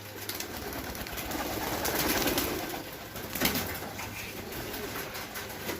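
Five to seven pigeons perched on a house roof give soft low coos under a steady outdoor background hiss, with a brief louder knock or flutter partway through.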